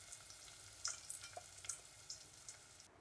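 Chopped onions fry in a pan for an ostrich meat curry, giving a steady soft sizzle with small crackling pops scattered throughout, close and moderately quiet, with no talking.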